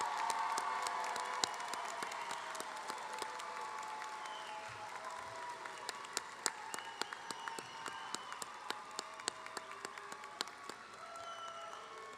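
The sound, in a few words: commencement audience applause and cheering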